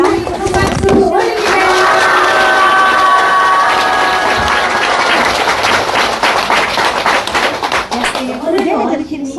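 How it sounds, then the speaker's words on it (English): An audience breaks into loud, sustained applause that fills the room, with voices and cheering mixed in before it fades out. "Let's give a big round of applause."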